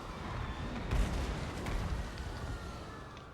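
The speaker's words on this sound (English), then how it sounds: "I enjoy my artillery barrages. Fire at those peasant mobs now." Artillery barrage in Total War: Warhammer 2, a dense rumbling wash of battle noise with a couple of heavier booming shots standing out amid continuous low roar, fairly loud throughout.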